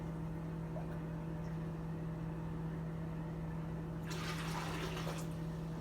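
Water poured from a cup into an aquarium, a brief near splash of about a second over a steady background hum.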